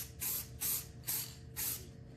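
An aerosol can sprays light coats of paint onto an R2-D2 dome in four short, crisp hissing bursts, each about a third of a second, evenly spaced and close.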